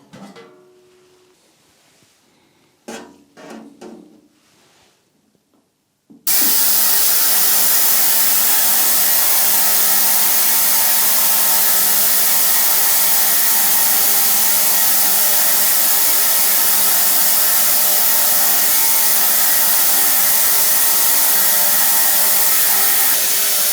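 A large ultrasonic cleaner switches on after a few quiet seconds of faint handling noises, then runs with a loud, steady, harsh hiss and hum that holds unbroken to the end.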